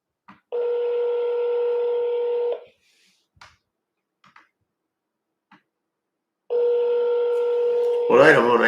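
A phone call to scammers rings out in two long steady electronic ring tones separated by silence with a few faint clicks, and a voice begins speaking at the very end.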